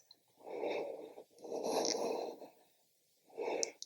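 Deep, slow breaths during a yoga pose, made up of three long airy exhales with a quiet pause before the last one, close to the listener and alone.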